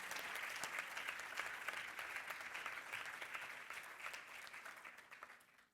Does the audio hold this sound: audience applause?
yes